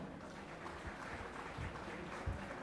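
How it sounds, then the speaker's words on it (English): Applause from the audience at a college graduation day ceremony honoring a gold medalist, a soft, steady patter of many hands clapping heard at a distance across the hall. "Give a big round of applause for Rosalina Chakraborty"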